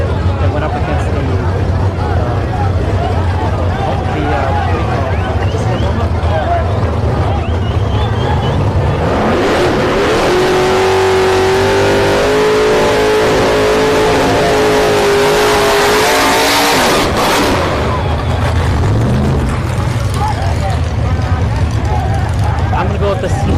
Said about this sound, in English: So we got the C4 Corvette going up against the 69 Camaro.